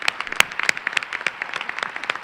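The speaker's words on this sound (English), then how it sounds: "Please give them all a round of applause." Scattered applause from the audience at a school district's State of the Schools address, individual claps standing out clearly in an uneven, moderately sparse rhythm.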